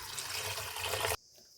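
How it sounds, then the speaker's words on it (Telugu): Water pours into a pot of washed toor dal in a steady, close splashing rush that stops abruptly, leaving near silence. "వాష్ చేసుకున్న తర్వాత వాటర్ వేసుకోవాలి."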